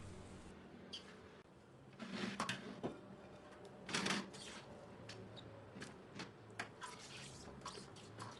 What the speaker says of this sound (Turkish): Salatalıkları bir defa suyunu sıktım. Şimdi hemen ikinciye de sıkıyorum.